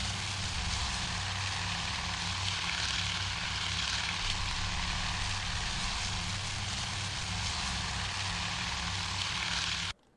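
Propeller engines of torpedo bomber aircraft in the naval war game Task Force Admiral drone as a steady, dense, unbroken roar for about ten seconds, then cut off abruptly.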